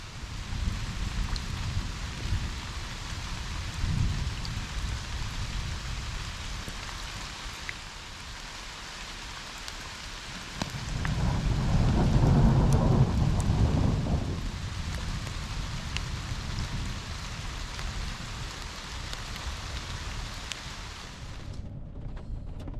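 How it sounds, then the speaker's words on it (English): Steady rain with rolling thunder at a creekside campsite in the Ouachita Mountains, a continuous wash of rainfall throughout that swells into a louder, deeper rumble of thunder near the middle before easing back to the downpour. "So we're waiting for the storm to kind of blow over before we set up camp."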